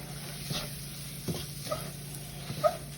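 Spoon or spatula stirring and scraping the bottom of a pan of sausage gravy with flour, soft intermittent scrapes over a quiet sizzle, four or five brief strokes with no talking.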